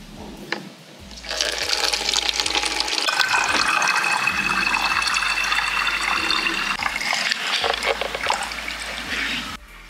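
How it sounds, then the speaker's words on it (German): Water pours steadily and loudly into a bottle for several seconds, a continuous gushing fill with gurgling, with a brief splash at the start and the flow easing off near the end. "ich habe jetzt die Flasche komplett gefüllt"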